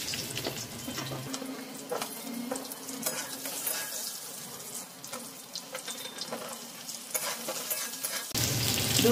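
Diced potatoes and pointed gourd sizzle in hot oil with bay leaf, black cumin and green chili, a steady crackling fry with occasional stirring scrapes, close and continuous.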